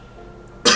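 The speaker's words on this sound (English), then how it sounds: "I got a cough, really bad." A single loud, sharp cough bursts in abruptly at the end after a stretch of quiet background, short and close to the microphone.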